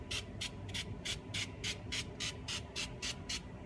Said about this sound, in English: I'm going to take some of this pure silicone spray and just,